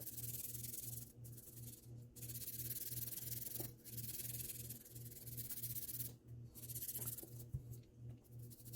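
A pad loaded with cheap toothpaste rubs back and forth over knife metal, making soft, rhythmic scrubbing strokes with brief pauses, close and very quiet.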